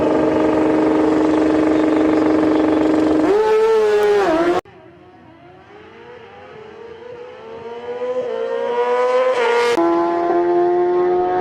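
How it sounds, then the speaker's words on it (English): A BMW drag racing at Toronto Motorsports Park roars at full throttle, loud and sustained, its pitch climbing and then dropping through gear shifts as it accelerates down the strip. "Katie Shaw enters in that BMW."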